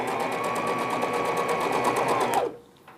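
A sewing machine stitches single piping along the bottom of a baby frock. It runs in a fast, even, loud whir with no pause, then stops abruptly near the end.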